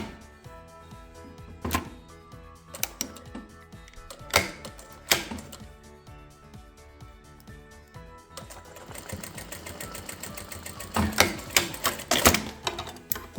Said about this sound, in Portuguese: a gente vai passar uma costurinha unindo essas duas tiras bem rente aqui à união da costura do início e do fim dela